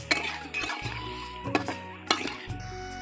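Potatoes being stirred in an oiled pan for aloo dum, with scattered clinks of a utensil against the metal and soft wet shuffling, close and fairly quiet.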